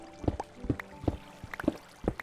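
Flowing water in a Minecraft cave: soft, watery plops and gurgles repeat at a steady pace of roughly two a second, low in level and close, without any voices.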